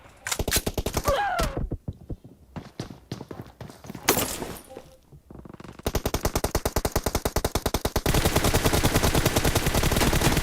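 Automatic rifle fire in the video game PUBG, rapid bursts of shots that give way to long sustained strings of rounds, loud and close, with brief pauses between bursts.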